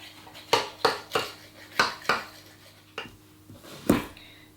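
A knife trims the excess pastry from the rim of an apple pie, giving a series of sharp clicks and scrapes against the pie dish at irregular intervals, close and fairly crisp, with no talking.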